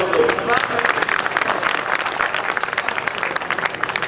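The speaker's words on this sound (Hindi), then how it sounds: "ताली बजाओ सब लोग।" At a Hindi poetry recital, the audience gives steady, dense clapping that carries on at an even level from start to finish.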